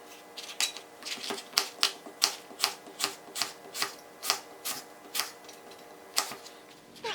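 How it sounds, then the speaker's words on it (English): A knife slicing a Fuji apple, likely on a cutting board, gives a steady run of about sixteen crisp, close taps at an even rhythm, with no talk. "I'm gonna take one Fuji apple and I like to just slice this up"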